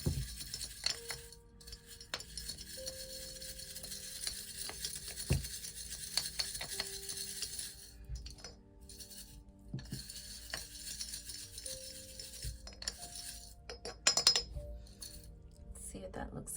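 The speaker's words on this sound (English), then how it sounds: "take my guava stick, mix that up a little bit." A guava stick stirs a honey jar mixture with faint scattered clinks and taps against glass, soft and intermittent over quiet background.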